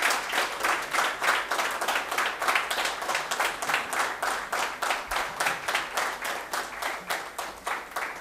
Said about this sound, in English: A big round of applause for the quiz master.